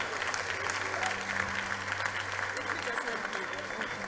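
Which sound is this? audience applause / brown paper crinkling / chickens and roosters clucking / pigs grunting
audience applause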